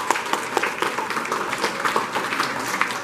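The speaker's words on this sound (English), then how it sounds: "Give yourselves a round of applause." An audience at a rally for the Boston Marathon claps in a dense patter of overlapping hand claps, moderately quiet and steady throughout the short stretch.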